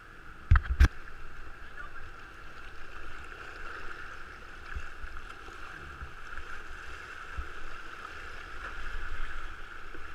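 A small boat moving across open water, with a low steady wash and wind rumble running throughout, a couple of sharp knocks near the start, and no voices.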